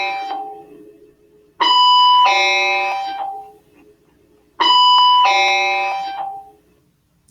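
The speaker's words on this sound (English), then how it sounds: "Sorry about the bell." A two-tone electronic doorbell chime sounds twice, each ding-dong loud and close with a lingering decay, separated by quiet gaps.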